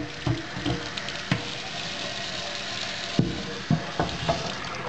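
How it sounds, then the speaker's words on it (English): Water rinses a disassembled hookah stem, a steady hissing rush broken by a few sharp clunks and splashes as the parts are handled up close. No one speaks. "And I'm just going to kind of rinse it off."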